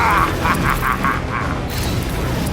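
Heavy booming blasts and rumbling combat noise during a spaceship firefight in Guardians of the Galaxy, a dense continuous roar with pulsing bursts and no clear pauses.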